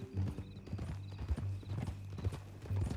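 Horse hooves clip-clop at a walking pace in Red Dead Redemption 2, a steady rhythmic series of close hoofbeats with faint tack and ambient game sound around them.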